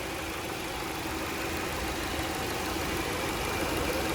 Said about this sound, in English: As you can see, the engine is running at the moment.